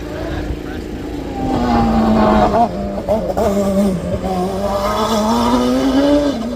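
A racing car climbs the Craigantlet hillclimb course, its loud engine note holding and rising through the gears as it passes, with a commentator talking over it.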